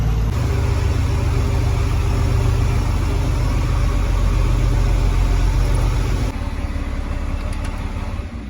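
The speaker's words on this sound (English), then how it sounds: "I'm gonna put the tractor back in the shed up here," A farm tractor on a Minnesota dairy farm drives toward the shed, its diesel engine running with a steady loud low rumble close by, then dropping slightly in level near the end.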